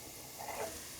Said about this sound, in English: I heat up some oil in the pot. I'm gonna get the onions in there,